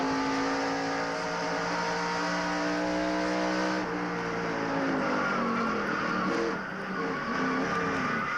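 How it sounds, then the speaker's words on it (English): NASCAR stock car at Bristol sliding sideways, its loud engine roar holding steady harmonics, then breaking into a ragged, shifting drone with tire scrub as the car loses grip, close and continuous with no talk. "Hey, Ned, he was driving that thing sideways, wasn't he?"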